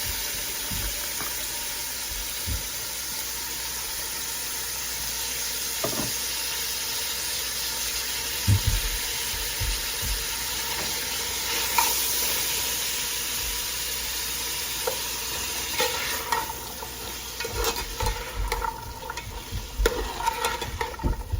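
Carrots and bell peppers sizzle and hiss as they stir-fry in a hot pan for Chicken Manchurian, with occasional scraping stirs and clinks over a steady background roar; no one speaks.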